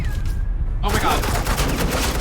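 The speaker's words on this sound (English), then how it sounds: "suppressing fire." Rapid suppressing gunfire in the Batman: The Enemy Within video game, a sudden dense burst of automatic shots erupting after a quieter moment and continuing loudly to the end.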